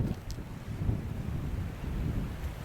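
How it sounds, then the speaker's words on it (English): Wind gusting across the microphone at a campground, a soft broad rush that swells and sags for a few seconds with no voices. "Here comes the wind."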